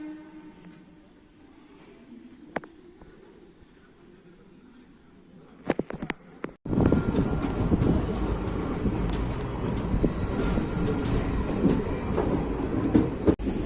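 Crickets chirp steadily, then the Salem–Chennai Egmore Express (22154) suddenly roars close by, a loud, continuous rumble and clatter of wheels that holds to the end.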